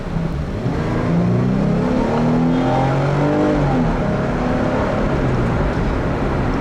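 A 2012 Jeep Wrangler Unlimited Sport with a V6 engine accelerates, its loud, steady engine drone rising in pitch as it gathers speed, heard close with road and wind roar underneath.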